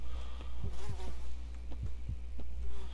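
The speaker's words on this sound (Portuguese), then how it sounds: "É, uns barulhos de mosca, tudo." Flies buzzing around a dead Canadian soldier in the game Standard Issue, several close insect drones swelling and fading in repeated passes over a low steady hum.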